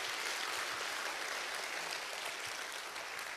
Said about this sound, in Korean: 우리 이철우 지사님께 우리 다시 한번 큰 박수 좀 부탁 올리겠습니다